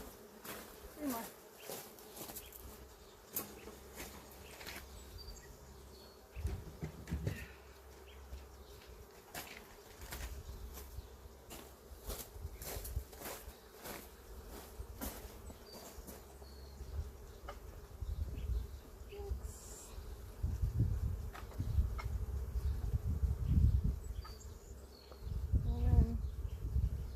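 Honey bees droning steadily around an open hive being checked before honey supers go on, a continuous insect hum with occasional louder passes near the ear and soft handling bumps, no talk.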